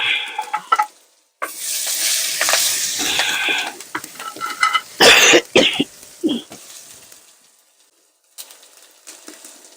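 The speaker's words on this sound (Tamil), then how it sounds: "கருவேப்பிலை, காஞ்ச மிளகா தாளிக்கிறாங்க இப்ப எல்லாமே." Curry leaves, dried chillies and crushed pepper, cumin, garlic and green chilli sizzle and crackle in hot oil in bursts, with stirring clatter and a few nearby coughs between the loud spits of frying.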